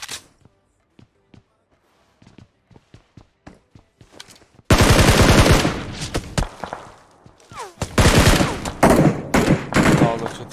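Bursts of automatic gunfire in PUBG Mobile: scattered single shots early on, then dense, loud volleys of rapid fire, with players talking over the shooting.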